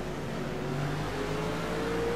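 Stock cars on the Xfinity Series oval at Chicagoland accelerating at the green flag, a dense, loud engine roar holding steady with rising tonal drones, heard from in or near the racing pack.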